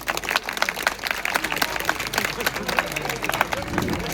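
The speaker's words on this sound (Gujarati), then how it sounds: "તાળીઓ તાળીઓ." Crowd applause at a village felicitation ceremony in Kanzara, Gujarat: brisk, dense clapping from many people throughout, fairly close and steady, with murmured voices underneath.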